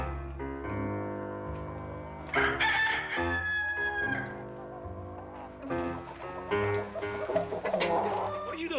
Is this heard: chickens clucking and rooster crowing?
yes